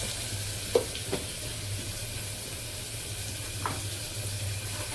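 Mutton curry with turmeric frying in a pan until browned, a steady close sizzle running throughout with a few brief clinks of stirring, no talk.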